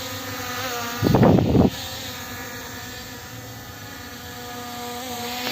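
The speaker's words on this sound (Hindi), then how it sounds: "देख सकते हो कितना ज़्यादा स्मूथ हमारे ड्रोन फ्लाई कर रहा है" P18 Pro camera drone hovering outdoors, a steady buzzing whine of small propellers with harmonic hum throughout, briefly masked by a short loud gust or rumble near the start, no talking.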